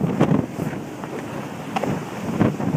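Wind gusts across the open summit of Mt Washington, a rough, buffeting rush that swells and fades in irregular bursts, close and fairly loud against the microphone.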